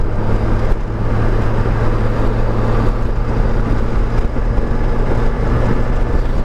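Car driving along a mud-covered country road, a steady low rumble of engine and tire noise that holds at an even level throughout, with no talking.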